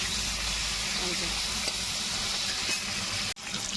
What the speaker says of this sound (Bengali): কপিটাকে ভেজে তুলে নেবো ভাজা হোক সবকিছু ভাজাটা হচ্ছে